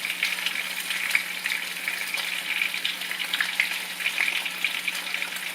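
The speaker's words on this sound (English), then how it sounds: "this is how I'm browning my oxtail" Oxtail browns in an Instant Pot with a steady, moderately loud sizzling hiss that carries on evenly throughout.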